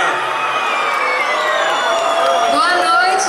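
Concert audience at an outdoor show in Pingo D'água, MG, cheering, whooping and shouting for the singer, a loud dense crowd roar with high whistles and calls, close and continuous.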